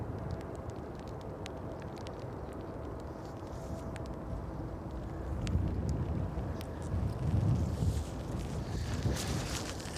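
Strong wind buffets the microphone at East Midlands Airport on an evening plane-spotting session, a steady rumbling roar that swells louder in gusts through the second half.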